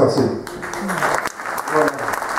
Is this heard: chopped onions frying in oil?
no